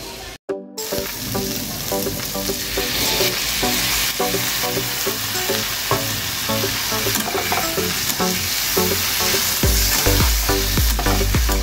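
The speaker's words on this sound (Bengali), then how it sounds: "এবার সর্ষে দিয়ে আমি নাড়াচাড়া করবো।" Mustard and other ingredients stirred and fried in a pan on a gas stove in a home kitchen, a steady loud sizzle with repeated scraping stirs throughout, no talk.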